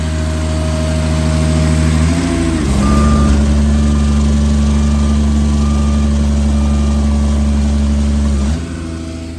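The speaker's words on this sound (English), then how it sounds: "The Kubota pony motors operating and working." A Kubota pony motor runs steadily on a forestry elevator bucket truck, a loud, continuous diesel drone that shifts in load partway through, with a reversing-style beep tone sounding over it for several seconds.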